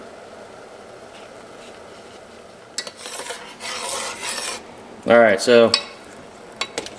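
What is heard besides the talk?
maple syrup boiling in a pan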